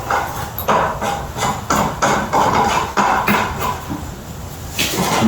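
A wrench ratchets a bolt tight on a Himiway Cruiser fat-tire electric bike, a steady run of close, sharp clicks in even strokes that stops near the end.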